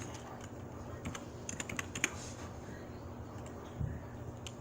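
Rapid clicks of a PC computer keyboard typing a settings command during NBA 2K22, the keystrokes irregular and fairly close over a low steady hum, with a small cluster of harder taps near the end.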